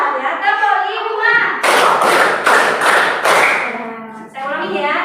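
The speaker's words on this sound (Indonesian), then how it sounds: "Tepuk 2, tepuk 3, tepuk 4, tepuk 1, tepuk 5" In a classroom counting exercise, a group claps a short rhythmic run of about five crisp, evenly spaced claps, preceded and followed by an instructor's voice and some children's talk.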